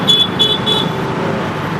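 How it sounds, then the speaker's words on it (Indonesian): Car horns give three quick short toots over steady road noise in a Jakarta traffic jam, close and loud. "Udah tahu macet masih tatut"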